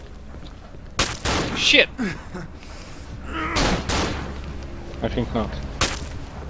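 Pistol shots in the horror game Cry of Fear: a few sharp cracks spread across the clip, loud and close, with players talking over and between them.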